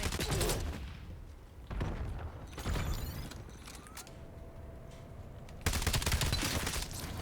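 Gunfire in the video game Black Ops 7, with bursts of loud shots separated by quieter stretches and a few mechanical clicks and creaks, no talk over it.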